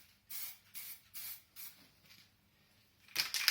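Aerosol spray paint hisses onto the inside of a board game box, coming in several short bursts with pauses between them, and a louder, sharper burst comes near the end.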